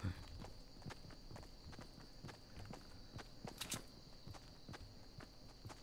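Rapid, evenly spaced footsteps from a character in the video game Fortnite, with a brief louder rattle around midway and a steady high tone underneath.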